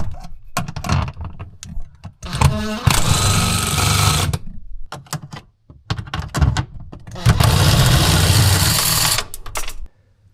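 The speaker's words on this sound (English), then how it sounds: "So to speed up the process, I'm going to use my impact tool." A pneumatic impact wrench fitted with a 3/8 universal joint, 12-inch extension and 10mm deep socket, removing radio nuts on a Golf: two loud sustained rattling bursts of several seconds each, separated by short clicks and handling noise.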